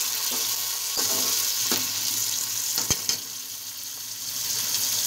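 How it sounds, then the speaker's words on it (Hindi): Tomato and onion frying with bitter gourd (karela) in a pan give a steady, close sizzle that fills the whole clip, with a few sharp knocks and scrapes of stirring. "अब हम इसमें ऐड करेंगे टमाटर और प्याज को मज़ीद जो है 1 से 2 मिनट तक जो है फ्राई करेंगे।"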